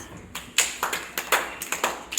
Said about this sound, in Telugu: వెరీ గుడ్, అంతే. క్లాప్స్.